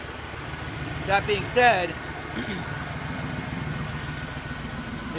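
A Carter-powered tow truck engine, loosely scabbed onto scary motor mounts, idles with a steady low rumble beneath the talk, while a person speaks briefly over it.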